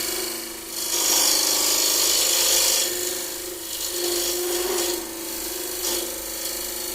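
A bowl gouge cuts a spinning wooden bowl on a lathe, a rasping, hissing scrape that swells and fades in long passes over a steady motor hum.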